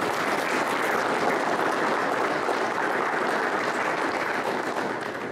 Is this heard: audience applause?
yes